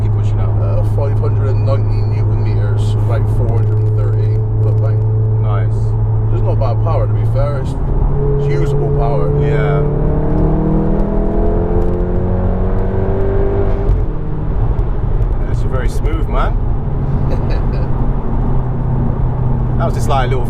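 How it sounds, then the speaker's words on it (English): Interior of a 403 BHP VW Golf Mk7.5 R accelerating hard in fourth gear, a loud steady engine drone rising in pitch through the pull, with people talking over it. "That was just like a little fourth gear pull"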